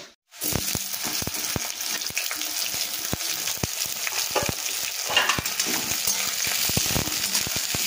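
Continuous crackling sizzle of potatoes and onions frying in a pan, with frequent sharp ticks and spatters throughout, close and fairly loud, no speech.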